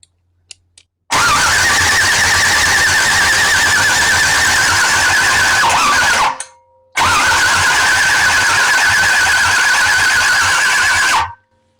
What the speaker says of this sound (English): So it does turn over the motor.